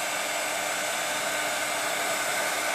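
A heat gun blows continuously while making a snow effect on a craft panettone holder, a loud, even rushing hiss with no pauses and no talk.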